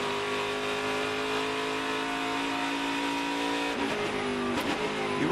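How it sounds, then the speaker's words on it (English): A NASCAR Craftsman Truck Series race truck engine held at a steady high drone as the driver manages the throttle, with a brief dip and pickup near the end; no voices. "as we listen into Lane Riggs managing that throttle."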